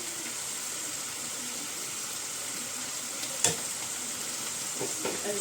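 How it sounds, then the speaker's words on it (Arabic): Meat sizzles with spices in a frying pan as it is stirred, a soft continuous hiss broken by an occasional clink of the spoon against the pan, quiet and close with no talk. "اقلب بقى كده شويه."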